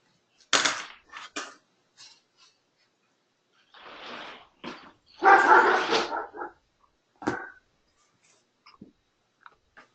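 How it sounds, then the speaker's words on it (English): A big dog barks in loud, irregular bursts indoors, with a couple of short clustered barks early on and a heavier, longer volley in the middle, then a few fainter yips and whimpers trailing off. "That's a big dog."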